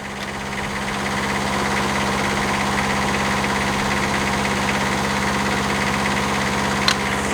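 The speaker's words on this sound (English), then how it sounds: "now the machine's going to drive with the remote" CTE Traccess 230-75 spider lift with its engine running during emergency track drive: a steady, close, even diesel idle with a low throbbing hum throughout and a single sharp click near the end.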